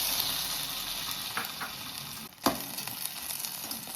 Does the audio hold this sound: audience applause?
no